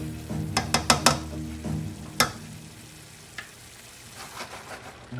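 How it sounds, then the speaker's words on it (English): Crayfish and onion sizzle in a hot pan with a low steady crackle, broken by several sharp clinks and scrapes of a utensil stirring against the pan. "The crayfish and the onion frying together."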